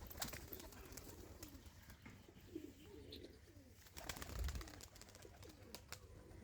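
Pigeons cooing softly in a loft, a tumbler breed shown performing: low repeated throaty coos in a steady pulsing rhythm, faint and fairly close, with light rustling and scattered clicks around them and no speech.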